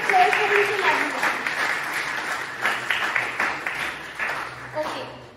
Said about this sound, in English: Please give a big round of applause for each and everyone.